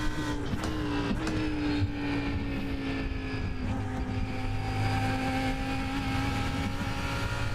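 A Lamborghini GT3 race car engine in the iRacing video game drones steadily at high revs, its pitch sliding slightly as it holds speed, loud and continuous without any voices.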